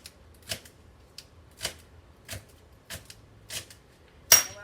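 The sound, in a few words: chopping celery with a knife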